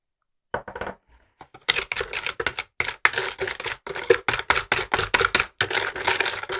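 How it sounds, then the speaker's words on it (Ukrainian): Egg yolks and sugar being rubbed together for Ukrainian verhuny pastry dough, a brisk gritty scraping of a utensil against a bowl in rapid uneven strokes, close and crisp with no talking. "з'єднаємо жовтки з цукром. Просто роз... розтерти."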